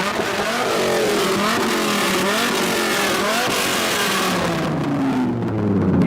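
A second-generation Dodge Viper engine revs hard and loud, close by, in repeated rising and falling pulls of roaring exhaust that fill the whole stretch without a break.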